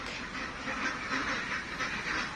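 Domestic ducks at a laying pen, a steady chorus of overlapping quacks and honks from a flock close by, continuous and fairly loud with no talking.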